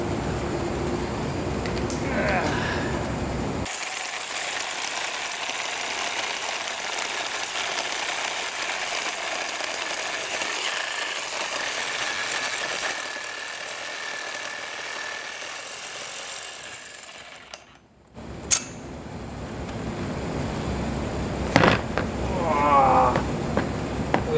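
A saw blade grinds steadily through a 1000 oz silver bar, a harsh, continuous, close-up cutting noise that runs for most of the stretch before stopping, followed by brief clatter and voices.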